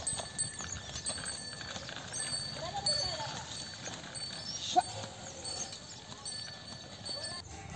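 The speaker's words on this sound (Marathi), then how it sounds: "बैलांनी पेरणी चालू आहे" Bullocks pulling a seed drill fitted with bells while sowing summer groundnut in a field in Pandharpur, with faint clip-clop steps and light jingling running steadily through outdoor ambience, and people talking at moments.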